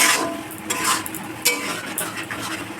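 A spice paste of ginger, onion, garlic and green chilli fries with cumin in a pan, giving a steady close sizzle broken by several bright scrapes and clinks of a spatula.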